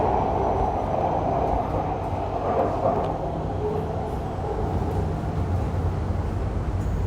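Bangkok MRT Purple Line metro train running, a steady loud low rumble of wheels and motors with faint squeal throughout, no voices.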